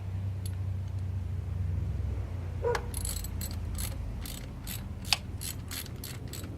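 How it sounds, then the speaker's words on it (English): Ratchet clicking in short bursts as thermostat housing bolts on a small block Chevy engine are snugged down, close and crisp over a low engine-bay hum, with a single metallic clank near the end. "Tighten it up. Don't tighten it all the way, just snug it down."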